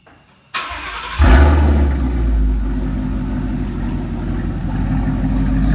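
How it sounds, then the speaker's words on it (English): Muscle car with an X-pipe exhaust starting up and settling into a smooth, deep idle, loud and close, with a steady low rumble after the initial catch. "I like the X-pipe, and I'll show you what my car sounds like"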